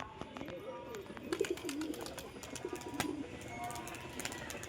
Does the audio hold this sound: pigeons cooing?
yes